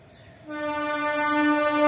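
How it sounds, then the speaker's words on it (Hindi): A train horn blows on a railway bridge in Jehanabad as a train approaches, a sustained tonal blast that starts abruptly and grows steadily louder, with no talk over it. "इधर रेलवे पुल है, आपको ट्रेन आ रही है"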